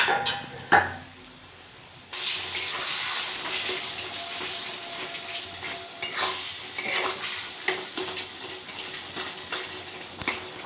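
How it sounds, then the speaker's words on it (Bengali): Spices frying in a pan for Kolkata-style ghugni, with a steady close sizzle and scraping stirs after a lid comes off; no talk. "তো মশলাটা ভালো করে ভাজা হয়ে গেছে।"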